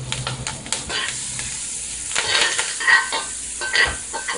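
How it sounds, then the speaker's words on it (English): Onion sautéing in a hot pot for a Jamaican curry snapper dish, a steady close sizzle with stirring scrapes and light clinks of utensils, no talk. "Quick saute."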